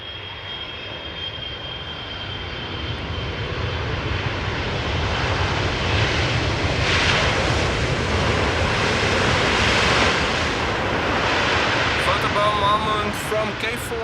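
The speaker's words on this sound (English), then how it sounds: "it was definitely not the loudest landing, unfortunately." Airliner landing at Amsterdam Schiphol Airport, heard from outdoors as a broad, steady jet roar with wind noise that swells gradually and stays loud and fairly near throughout.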